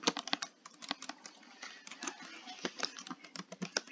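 Rapid, uneven clicks of fingers typing on a computer keyboard, close and clear, with short pauses between bursts and no talking.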